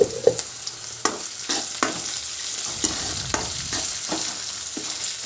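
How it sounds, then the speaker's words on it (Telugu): Onions with ginger-garlic paste frying in a pan, a steady sizzle broken by regular scraping stirs every second or so, close and moderately loud with no talking. "కొద్దిగా వేగాక అల్లం పేస్ట్ కూడా వేసేస్తే అది ఇది కలిపి వేపేయచ్చు అనమాట"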